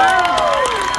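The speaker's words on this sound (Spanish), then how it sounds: "Fuerte el aplauso." Loud crowd noise at a Day of the Dead celebration as a university prize winner is honoured, with steady applause mixed with raised cheering voices and a rising-falling shout above the dense clapping.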